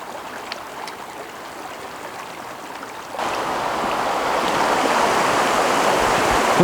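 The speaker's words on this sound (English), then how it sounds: "We've reached the main body of water, the main flow of the river" Mountain river in the Rocky Mountains, the main flow rushing with steady broadband hiss that swells louder midway as the flowing water comes closer, no talking.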